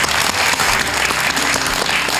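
Studio audience applauding on a Korean television talk show, loud, dense, continuous clapping from many people filling the whole short stretch.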